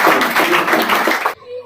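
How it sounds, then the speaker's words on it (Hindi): A school audience at a talk show gives a short burst of enthusiastic clapping, close and brisk, which cuts off abruptly after about a second and a half. "फिर एक बार आपका और इलियास का जोरदार तालियों के साथ"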